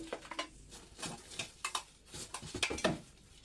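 A brand new set of metal pots being handled up close, with scattered light clinks, taps and scrapes of cookware knocking together in irregular bursts.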